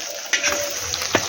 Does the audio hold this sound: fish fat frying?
yes